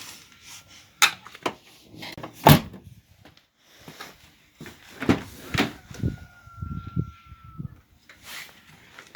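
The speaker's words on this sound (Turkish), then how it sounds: "Şu an kapı açılıyor. İçeriden kapı açılıyor." The rear door of an Opel Astra G car is opened from inside, with a series of clicks, clunks and latch knocks of varying loudness, close by and with no talk.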